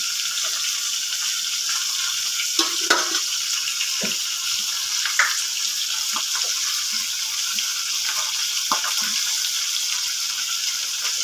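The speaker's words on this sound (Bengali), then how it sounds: "পেঁয়াজটা, কালো জিরাটা আর লঙ্কাগুলো ভালো করে উল্টে দিলাম, উল্টে দিয়ে ভেজে নিলাম" Onion, nigella seeds and chillies fry in hot oil with fish head for a gourd dish, giving a continuous hissing sizzle punctuated by occasional stirring clinks and scrapes, close and steady without speech.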